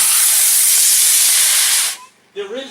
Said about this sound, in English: Pringles drag race going in 5, 4, 3, 2,